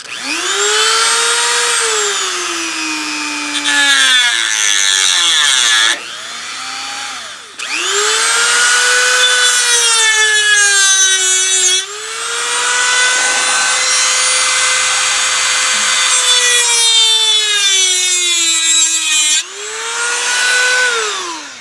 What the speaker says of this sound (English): I got my little Dremel tool here, and wish me luck